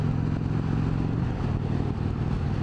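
An Indian Springfield Dark Horse motorcycle cruising in sixth gear, its big engine a loud, steady low rumble up close with wind noise throughout.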